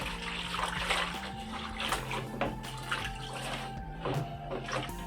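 Water sloshes and splashes continuously as a goldfish fry tank is scrubbed out by hand, close and steady with irregular splashy surges, a faint hum running underneath.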